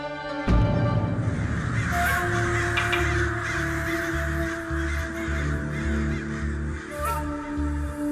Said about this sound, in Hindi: ये कौवे एक ही साथ कहाँ जा रहे हैं?